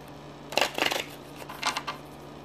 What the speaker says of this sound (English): we'll shuffle the brand new spiffy star cards